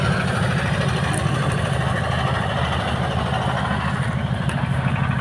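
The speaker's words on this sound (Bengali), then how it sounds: "এদিক দিয়ে ট্রলার যাচ্ছে, বালি নিয়ে, ট্রলার দিয়ে বালি নিয়ে যাচ্ছে" A motorized trawler boat hauling sand along a river runs its engine in a steady, low, rumbling drone that stays constant and fairly loud throughout, with no talking.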